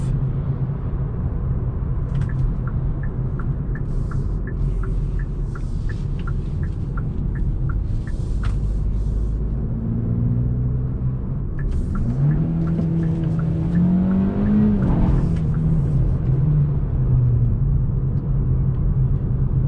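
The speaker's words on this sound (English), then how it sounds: "So this car is really fun to drive in sport and play around with the gears." A 2021 Hyundai Elantra N Line on a test drive gives a steady low engine and road rumble, then the engine note rises and falls through gear changes in sport mode.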